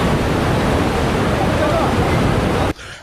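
The Qiantang River tidal bore surges in a loud, continuous roar of rushing water and surf with heavy wind buffeting, then cuts off abruptly near the end.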